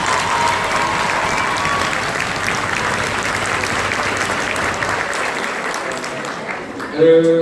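A hall full of students applauds in a dense, sustained roar of clapping that holds steady for several seconds before tapering off at the close of a tutoring association president's speech.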